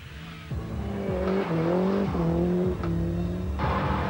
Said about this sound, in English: With the exception of a little rubber burning, everybody seems to be just enjoying themselves